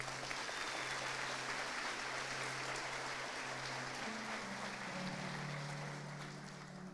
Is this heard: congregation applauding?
yes